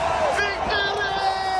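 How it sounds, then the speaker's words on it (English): A large crowd of protesters in Sri Lanka shouts and yells together, loud, dense and chaotic, with rising whoops and cries close by. "Massive crowd storms into the president's residence after breaking down police barriers."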